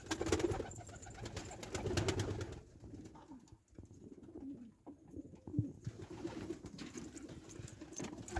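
Pigeons in a nest box, one hen sitting on an egg, giving soft low cooing calls close by, repeated in gentle throaty bursts with rustling between them, no speech.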